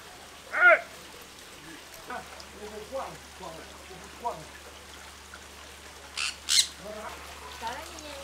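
A kuak bird squawks loudly a few times at a resort in Lenggong, Perak, Malaysia, with sharp harsh calls near the start and again later, over quiet talk and a soft background hiss.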